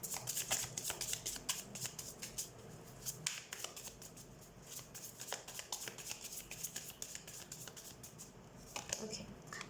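Tarot cards are shuffled during a reading, giving a run of quick crisp riffling and slapping bursts at close range, with a voice talking quietly in the background.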